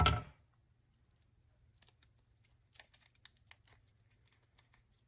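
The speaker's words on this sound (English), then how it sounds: "let's cut a little rounded divot here" Scissors snip a small rounded notch into a sheet of folded paper for a decorative journal corner, a few faint, quiet cuts in an otherwise hushed space after one brief louder bump at the start.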